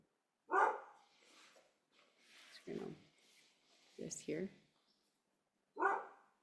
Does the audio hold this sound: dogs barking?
yes